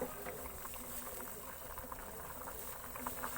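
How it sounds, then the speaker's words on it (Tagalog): Water boiling steadily in a cooking pot for dabong with saluyot, a dense continuous bubbling hiss at close range, with no talk over it. "Hintayin na kumulo. Ayan guys, kumulo na."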